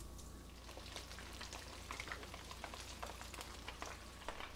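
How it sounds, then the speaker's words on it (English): Lemon-pepper dusted fish frying in a skillet, a steady soft sizzle with scattered light pops and crackles, fairly quiet and continuous with no talking. "Now, time to add them to our skillet."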